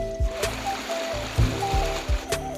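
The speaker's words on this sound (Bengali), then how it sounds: "মাটির নিচ থেকে বের হইতেছে আর এটা হচ্ছে বৃষ্টির পানি" Rainwater trickling and flowing out from under the ground in a hilly forest area, a steady close watery gurgle with a few duller knocks and faint tonal sounds over it.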